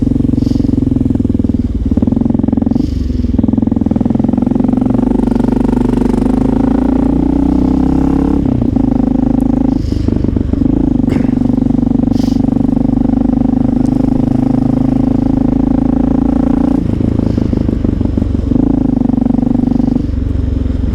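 A Honda XR650L motorcycle under way, its single-cylinder engine droning loudly and steadily for the whole stretch, with small rises in pitch, light clatter and wind rush.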